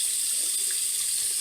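Hot water streams steadily from a kitchen faucet into a sink, a close, continuous hiss and splash with no talking.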